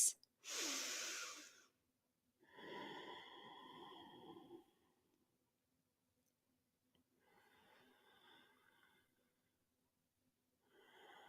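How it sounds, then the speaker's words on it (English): Slow, deep yoga breaths during a morning session: three or four long, close, airy breaths with quiet pauses between them. "take 3 more breaths"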